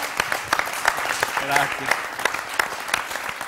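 Scattered audience applause for performers on a Sanremo Festival television show, irregular distinct claps with a brief spoken word from a man in the middle.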